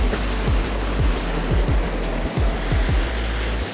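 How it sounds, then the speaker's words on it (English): A large ocean wave crashes on the shore, producing a loud, continuous roar of breaking surf with rushing water throughout. "Oh, that's a huge wave coming."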